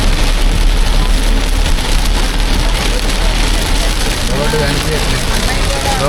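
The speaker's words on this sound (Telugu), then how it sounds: "ఫుల్ వర్షం, భారీ భారీ వర్షం." Heavy rain pours during a road trip from Manuguru to Hyderabad, a loud, dense, unbroken drumming and hiss from start to finish, and a voice comes in near the end.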